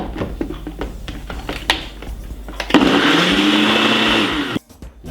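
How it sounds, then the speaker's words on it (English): A Ninja blender blending a broccoli drink: a few knocks and clatters as it is set up, then a loud, steady motor whir that runs for about two seconds before cutting off abruptly. "Blend this about 3 to 4 minutes on a Ninja blender."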